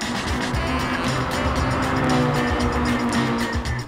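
A race car engine in a sim racing video game holds a loud, continuous drone with steady harmonic tones and a rapid underlying rumble, with no pauses or talking.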